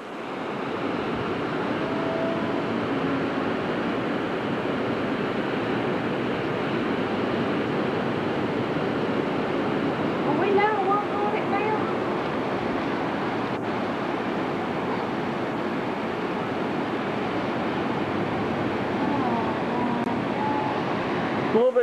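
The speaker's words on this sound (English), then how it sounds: "Pretty nice waves." Ocean surf rolls continuously onto Daytona Beach, Florida, on a cloudy evening, a steady broad wash of breaking waves mixed with wind buffeting the microphone, with no clear pauses.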